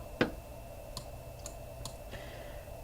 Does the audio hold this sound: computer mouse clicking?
yes